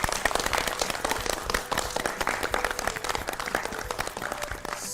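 Applause from a studio audience on a Hindi kids' quiz show, rewarding a correct answer about why startups fail; dense, steady clapping fills the whole stretch at close range with no talk over it.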